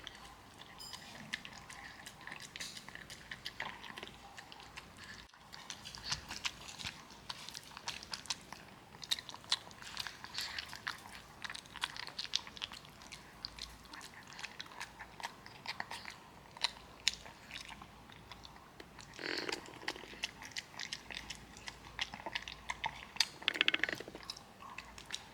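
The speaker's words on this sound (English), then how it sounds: "Here is a 20-second ASMR of Kunji eating his food" A dog eats homemade dog food, biting and crunching steadily in close, wet mouthfuls with occasional louder chomps, no talking throughout.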